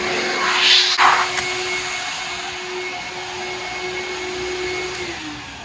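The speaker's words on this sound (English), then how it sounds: "The air dryer works pretty good." Loud, steady roar of a powerful car wash air dryer blowing continuously, a broadband rushing whoosh with a brief surge near the start.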